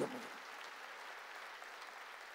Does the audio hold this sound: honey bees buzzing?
no